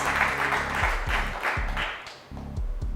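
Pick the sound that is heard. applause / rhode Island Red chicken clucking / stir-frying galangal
applause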